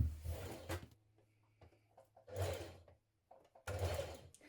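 A sewing machine stitching the side seams of a summer skirt, running in three short bursts of whirring motor and needle with quiet pauses between.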